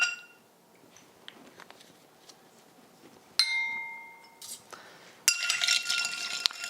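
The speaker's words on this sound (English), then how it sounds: "You have to stir it just enough to get a good mix and a good dilution of the ice" Ice clinks and rattles in a glass as a cocktail of sweet vermouth and bitters is stirred, with scattered sharp taps followed by a brighter, busier burst of clinking, close and clear.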